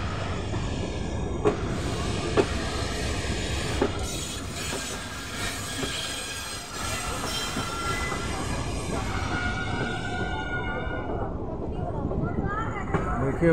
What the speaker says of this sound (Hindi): देखिए मेट्रो वहाँ निकल गई घूम के